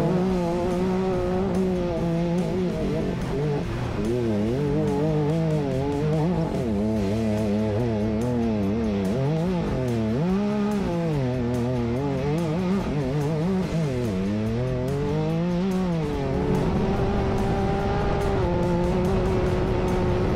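Off-road race cars tear through the desert at King of the Hammers, a continuous loud engine roar with wavering, climbing and dropping revs as the vehicles accelerate away, dense and sustained without any talking.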